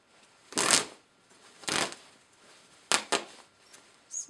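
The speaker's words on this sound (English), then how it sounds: "And get the lining started ripping here." The lining of a wool coat is torn apart at the seams in four short, loud bursts of ripping fabric and snapping stitches, close up, separated by quiet pauses, with no talking.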